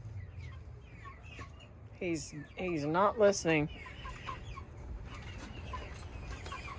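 Chickens cluck and squawk in a burst of excited calls, fairly close, with someone speaking briefly before and after.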